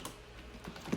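Quick keystrokes on a computer keyboard, a few faint, scattered taps over a quiet room with no pauses for talk.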